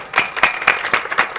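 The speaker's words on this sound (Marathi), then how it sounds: "आपल्या वतीने एकदा ह्याच्यासाठी टाळ्या वाजवत आपण" A crowd at a village kirtan claps together in several quick, rhythmic bursts, loud and close, with no voices over it.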